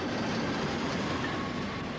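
A train rolls steadily along a narrow-gauge Swiss Federal Railways line, a continuous loud rumble with faint rhythmic wheel clatter throughout.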